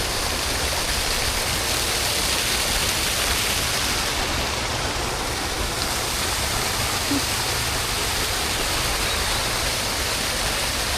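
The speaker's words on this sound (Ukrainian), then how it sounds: "запрацював фонтан, так неочікувано взагалі" A fountain in the grounds of Topkapi Palace in Istanbul runs strongly, a loud, dense and unbroken rush of falling water that stays even throughout.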